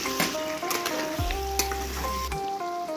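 Potatoes for aloo dum frying in a pan with turmeric, sugar and salt, a soft sizzle under stirring and scraping, with a low hum and a few clinks.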